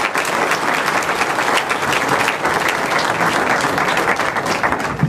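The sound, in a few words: audience applause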